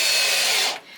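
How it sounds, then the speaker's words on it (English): A power drill drives screws into kitchen cabinets during a mobile home install, giving one loud, close whir that runs for under a second and then cuts off. "If I drill it any farther in, it's gonna fall."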